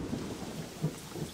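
Rain and thunder sound effect for a children's nursery rhyme: a steady hiss of falling rain with a soft, brief rumble of thunder, quiet and without voices.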